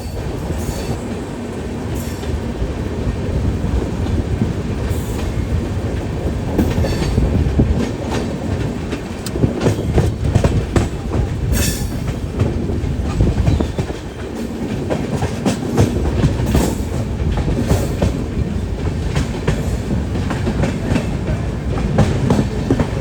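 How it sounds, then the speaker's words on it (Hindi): A passenger train pulls into Mathura Junction, a steady loud rumble of wheels and rail clatter running throughout with rhythmic clicks and brief metallic squeals, heard close from the platform or coach. "ये देखिए मथुरा जंक्शन पे कोई ट्रेन अराइव हो रही है"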